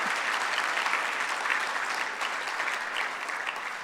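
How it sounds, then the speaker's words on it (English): Sustained applause from a gala audience honoring military veterans, a thick, steady crowd of clapping hands that holds at an even level throughout. "can I get a round of applause just to be able to be together and celebrate?"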